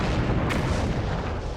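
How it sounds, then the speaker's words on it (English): A house blows up in a movie explosion, a loud, sustained roaring blast that fills the whole stretch with dense rumble and a sharp burst partway through. "that was a damn good explosion"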